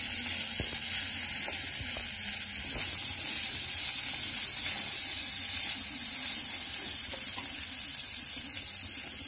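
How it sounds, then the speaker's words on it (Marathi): Amla pieces sauté in ghee with steady, continuous sizzling, close and even throughout, with a few faint clinks of a utensil. "फोडणी टाकल्यानंतर मी त्याच्यात आवळ्याचे तुकडे घालून घेतले। ते 1 मिनिट परतून घ्यायचे तुपावरती।"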